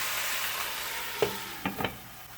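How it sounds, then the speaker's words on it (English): Saltfish and tomatoes cooking in a pan, a soft steady sizzle with a few brief spoon scrapes near the end. "I would leave this to simmer for a couple of minutes"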